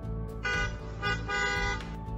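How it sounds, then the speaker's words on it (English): Car horn honked in a secret signaling pattern, a series of bright tooting blasts with short gaps and slightly varied lengths, loud and alone. "they even had a secret honk that they would honk at one another on the streets that sounded something like this"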